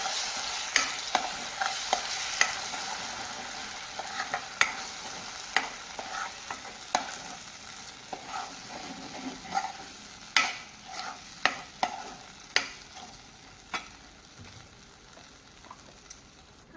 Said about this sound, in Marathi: आणि हे वाटण चांगलं तेलावर परतवूया